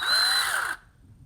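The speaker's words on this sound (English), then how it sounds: "you can duplicate that with just putting one end in a vise and then the other end in a drill" Power drill spinning one end of wires whose other end is clamped in a vise, twisting them together; a steady whirring motor with a rising and falling pitch runs for most of a second, then stops abruptly, leaving quiet.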